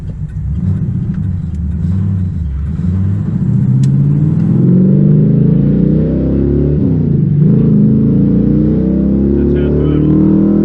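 A 1996 LT1 V8 fitted with TorqHeads revs at half throttle inside the car, a loud steady low engine drone that swells and holds, with faint interior noises over it.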